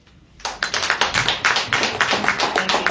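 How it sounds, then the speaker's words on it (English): Audience applause at a live evening politics talk event: a burst of clapping starts after a short quiet and carries on steadily, close and fairly loud, with no talk over it. "give them one more round of applause this week"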